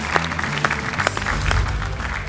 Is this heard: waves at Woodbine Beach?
no